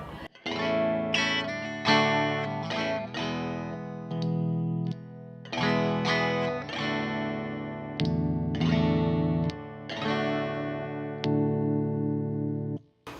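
A Fender Mustang '69 Reissue electric guitar played through distortion and chorus, with chords and sustained notes ringing out in short phrases, loud and alone.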